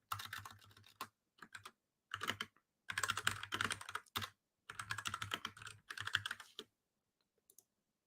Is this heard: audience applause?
no